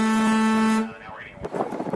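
A ship's horn blasts loud and steady, then cuts off, followed by a rougher burst of noise and muffled activity.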